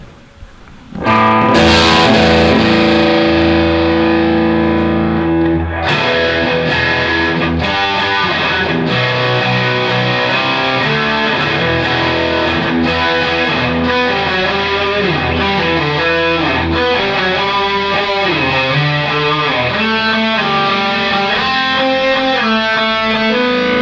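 Kiesel Greg Howe signature electric guitar played through heavy distortion, a loud continuous stream of sustained chords and fast melodic lines with dense harmonics, no voices present.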